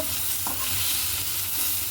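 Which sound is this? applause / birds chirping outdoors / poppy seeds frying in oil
poppy seeds frying in oil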